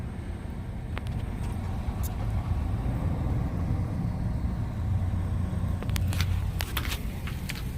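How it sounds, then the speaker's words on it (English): A parked car's engine idles at an abandoned Super Kmart lot in Medina, Ohio, a steady low rumble running throughout with faint outdoor noise and a few brief ticks. "I do have the car running because I drove over here."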